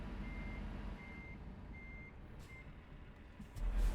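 Steady reversing beeps from a truck backing a trailer in Euro Truck Simulator 2, four evenly spaced beeps over a low engine rumble, with a brief hiss near the end.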